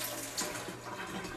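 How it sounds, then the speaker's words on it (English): Water from a pot of boiled potatoes pours out into a kitchen sink in one steady, close rush of splashing lasting just over a second, with a brief brighter splash partway through. "just drain out the water from the potatoes"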